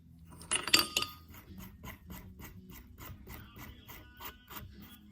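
Tools work on a cheap aftermarket power steering bracket being screwed down, with a couple of sharp metallic clinks early and then a quick, regular ratcheting series of soft clicks close by.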